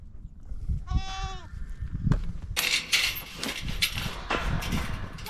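Goats bleat on a small farm field, one clear wavering bleat standing out early, followed by scattered rustling, thumps and a few sharp noisy bursts nearby.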